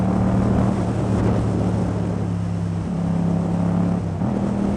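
A Yamaha FZ-07 motorcycle engine runs close by with a steady throbbing drone, pitch dipping and rising as the throttle is worked, loud and without talk.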